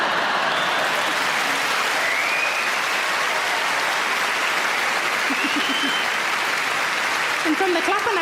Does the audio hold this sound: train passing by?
no